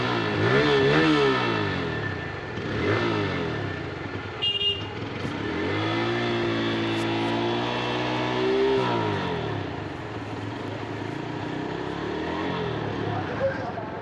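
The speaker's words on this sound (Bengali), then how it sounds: "তো ফাইনালি স্টার্ট দেওয়া হয়ে গেল গাড়িটা।" A Bajaj Pulsar N160 motorcycle engine runs close by after being started, with a repeated rising and falling rev in several swells over a steady idle.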